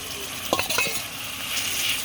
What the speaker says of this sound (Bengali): এই যে এবার কষানো হয়ে গেছে, আমি এখন আলুটাকে দিয়ে দিচ্ছি।